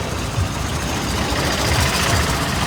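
Tractor engines rumble continuously at a farmers' tractor march protesting central farm laws, a steady low idling drone with slight knocking throb, fairly loud and close, with no talk over it.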